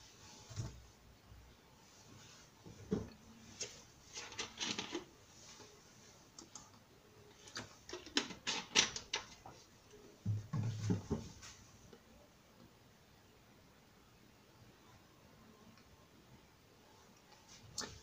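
Keys tapped on a computer keyboard to write a comment, coming in scattered bursts of quiet clicks with pauses between them, fairly close and alone without talk.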